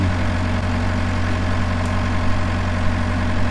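A vehicle engine idles in a Roblox game, a steady, low, even rumble that holds unchanged throughout with no talking over it.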